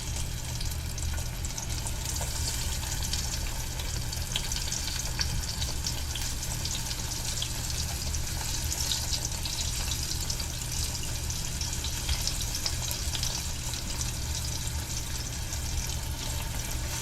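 Eggplant frying in a pan, a steady dense sizzle and crackle of hot oil that keeps going at an even loudness close by, with no voices over it.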